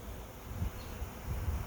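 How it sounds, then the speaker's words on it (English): A honey bee swarm moving into a swarm trap gives a steady low hum that stays even throughout, soft and blended with faint outdoor air noise. "it's a nice steady hum of bees"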